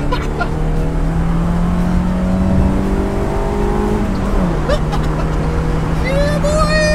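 A car engine drones steadily and loud, its pitch holding then shifting as it revs, with faint talk and road noise mixed in.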